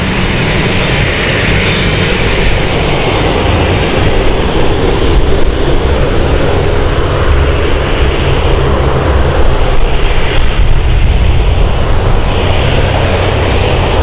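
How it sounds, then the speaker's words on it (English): An airliner roars through its takeoff run in a strong crosswind at London City Airport, a loud, steady, broadband engine rumble that fills the scene throughout. "It crabs the aircraft when they take off."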